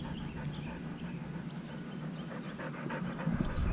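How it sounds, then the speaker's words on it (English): A dog pants steadily with quick breathy huffs, close by, as a low background rumble runs beneath. "So these are the dogs that I actually stay with at nighttime."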